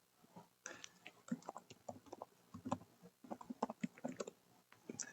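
Quiet, rapid clicking of a computer keyboard as an IP address is typed in, bursts of keystrokes with brief pauses, close and soft, with no voices.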